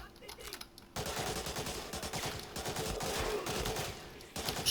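Gunfire in the video game Medal of Honor: Breakthrough: after a quieter opening second, dense rapid shots crackle loudly and continuously, with overlapping bursts and a fresh volley at the end.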